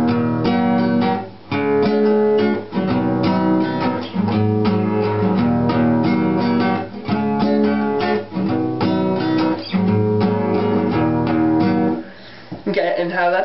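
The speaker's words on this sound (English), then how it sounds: "The first opening chords will sound something like this." Guitar playing the opening chords of a song, strummed steadily in a continuous rhythmic progression, loud and close with brief pauses between chord changes and no voices.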